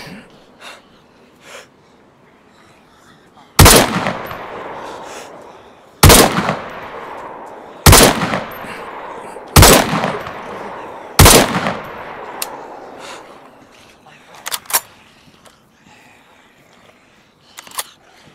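SKS rifle fire in DayZ: five loud, sharp single shots spaced a couple of seconds apart, each with a short echoing tail, followed by a few fainter clicks and distant pops.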